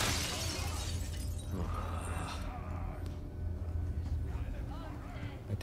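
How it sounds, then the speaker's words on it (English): Glass shatters in the Resident Evil 4 remake video game: a sharp, bright crash at the start, then a lingering game-world rumble and faint voices. "I think they will know if the glass breaks"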